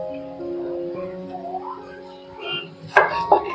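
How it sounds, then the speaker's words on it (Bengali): A knife cuts a tomato into round slices on a board. A few sharp chopping knocks land near the end, over a steady background of sustained tones. "এইভাবে গোল গোল করে টমেটো কেটে নেব।"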